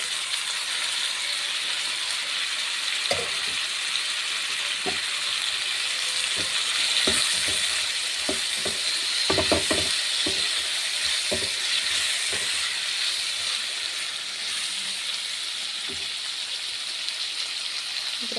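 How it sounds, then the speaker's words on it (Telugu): Oil frying for egg biryani, a steady close hiss of sizzling with scattered sharp pops and clicks of a spoon stirring the pan, no voices. "ఇది అలా ఆయిల్లో ఫ్రై అవుతుంటే"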